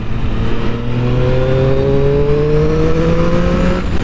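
A 2020 Triumph Street Triple motorcycle accelerates hard on a test ride, its engine note rising steadily and loud in a continuous climbing whine, with no talk over it.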